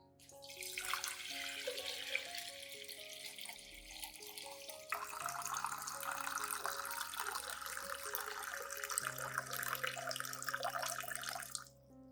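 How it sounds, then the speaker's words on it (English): Clean water runs steadily into a glass, about 500 milliliters, as a continuous close splashing pour with no talking, the tone shifting slightly partway through as the glass fills. "prepare a clean glass, then add about 500 milliliters of clean water."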